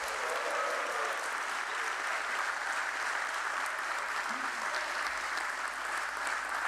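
Audience applause at a stock exchange listing ceremony, a dense, even wash of many hands clapping that holds steady throughout at moderate distance.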